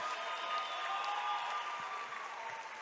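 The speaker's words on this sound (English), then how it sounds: "let's give both fighters a big round of applause" A crowd at an MMA event claps for both fighters after three rounds, a steady wash of applause heard from a distance, fairly quiet and even throughout, with no voices on top.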